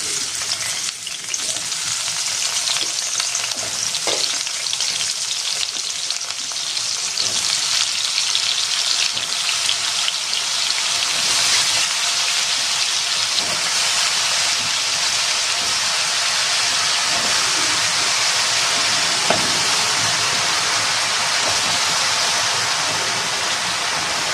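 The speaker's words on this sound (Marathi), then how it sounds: "आता ही वांगी चिरून घेतलेली आपण ह्याच्यामध्ये टाकून घेऊया" Chopped brinjal sizzling steadily in a hot pan while cooking for bharit, a continuous close frying hiss with occasional stirring scrapes and no talk throughout.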